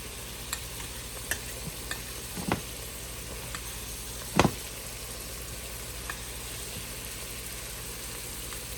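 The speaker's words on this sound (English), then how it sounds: "skillet fried mushrooms" Mushrooms frying in a skillet make a steady low sizzle, with a few soft taps and one louder scrape of a utensil against the pan, close and uninterrupted by talk.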